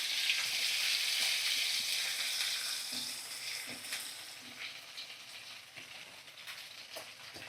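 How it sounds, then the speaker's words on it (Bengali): Chopped onions fry in a pan over a medium flame after cardamom has gone in, a soft, steady sizzle with occasional faint stirring clicks, quiet and without talk. "আর দেখো কুচানো পেঁয়াজ আমি এবার দিয়ে দেবো।"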